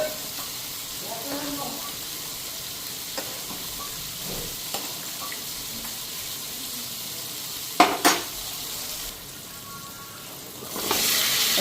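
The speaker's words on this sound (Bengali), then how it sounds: "মশলাটা ততক্ষণে ফ্রাই হোক।" Spices and soft lentil fritters fry in a pan, a faint steady sizzle broken by a few sharp utensil clinks near the end and a brighter hiss in the final second.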